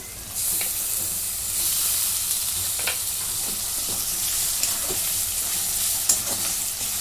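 Chopped tomatoes sauté in a hot pan for a green brinjal curry, giving a steady close sizzle and hiss with occasional scraping stirs, no talking.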